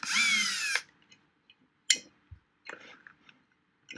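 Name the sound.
power drill removing Allen head screws from subwoofer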